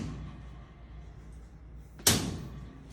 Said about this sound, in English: you slide your filter tub in place, and you can close the doors